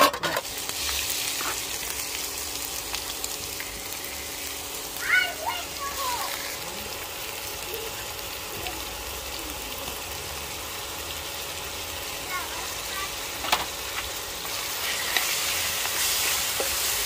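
Garlic, ginger, onion and garam masala fry in a pan on a clay stove outdoors, filling the air with a continuous bright sizzle and hiss broken by a few soft stirring scrapes.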